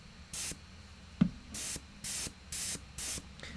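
An airbrush spraying white paint over black primer on a Warhammer 40k Centurion miniature, five short hissing bursts in an even rhythm, close and clear, with one sharp knock between them and no talking.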